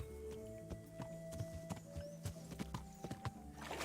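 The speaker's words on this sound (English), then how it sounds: "Mount the horse." Horse hooves clip-clop at a walking pace in the medieval game Kingdom Come: Deliverance, a steady run of distinct hoof strikes over faint ambient background.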